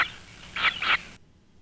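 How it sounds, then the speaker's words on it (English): Western meadowlark nestling gives crude, buzzing begging calls: a few short raspy bursts in quick succession, fairly close and moderately loud over faint background hiss, then cut off. "we're listening to a western meadowlark for this example"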